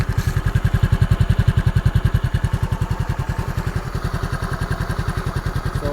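Close at the exhaust of a two-month-old Motorstar Easyride 150, the engine idles in a loud, regular thumping pulse that slows slightly, heard alone without talk.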